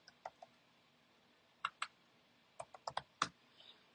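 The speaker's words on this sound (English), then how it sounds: "I'm going to type knight." A handful of sparse, quiet keystrokes tap on a computer keyboard, a couple of isolated clicks followed by a short burst of several keys typing a single word.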